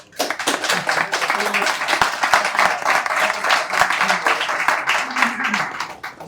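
Seminar audience applauding in a steady, dense wash of clapping for several seconds, with a few sharper individual claps and faint voices murmuring underneath.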